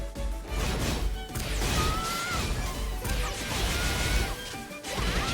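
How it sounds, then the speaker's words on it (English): Glass shatters during a Tekken 8 tournament match, a loud crash with bright debris over dense, continuous game noise, including a brief whoosh and thwacking hits. "We're breaking the glass already."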